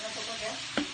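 Pork for sisig cooking in a pan, a steady soft sizzle and frying hiss throughout, with one brief louder stir or clatter near the end.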